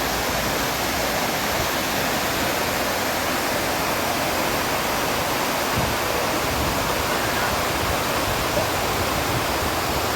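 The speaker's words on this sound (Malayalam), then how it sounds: "ഇങ്ങനെ വെള്ളം ഒഴുകി വന്ന് താഴേക്ക് വന്നിട്ട് ഒരു ചെറിയൊരു കുളം പോലെ കെട്ടിയിട്ടേക്കുന്നിടത്തോട്ട് വീഴുക" Orakkumpara waterfall in Pathanamthitta, Kerala, roars steadily, a dense, unbroken rush of water pouring into a small walled pool, loud and close with no other sounds.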